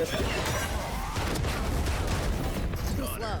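Shotgun blasts in the tactical shooter Valorant during a dash attack, loud and dense with booming low-end bursts over a continuous rumble of game effects.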